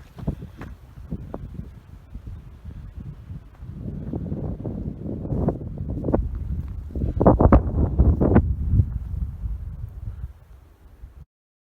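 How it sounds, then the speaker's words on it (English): Wind gusting over a mountain trail on the Cleman Mountain loop via Waterworks Canyon, a rough rumbling buffet on the microphone that builds toward the end, mixed with scattered crunching footsteps. "Trudging and trudging, and the wind's picking up."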